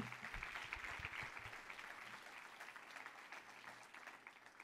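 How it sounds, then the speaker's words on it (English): An audience at an education town hall gives a steady round of applause, soft and even in level, the crowd's clapping continuing without a break. "Please, one more round of applause for Secretary King."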